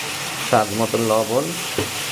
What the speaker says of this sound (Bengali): মশলাটাকে সুন্দরভাবে কষিয়ে নেব